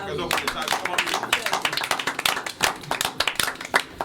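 People on a Guadeloupe talk show clap together, a quick uneven run of distinct hand claps from a small group, close and crisp, with talking mixed in.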